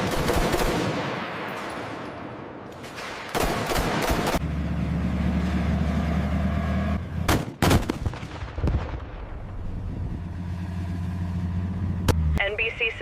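An M1 Abrams tank fires its main gun, with several sharp, heavy blasts spaced seconds apart over a steady, low mechanical drone.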